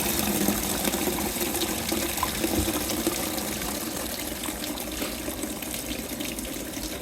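Water pours steadily out of the bottom drain port of a household water heater, a continuous close gushing rush with no pauses or voices.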